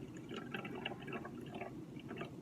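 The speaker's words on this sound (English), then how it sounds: "So I'm gonna fill it up like I did the first one." Boiled water pours into a neti pot in a steady, soft trickle with faint splashing, quiet and close, with no talking.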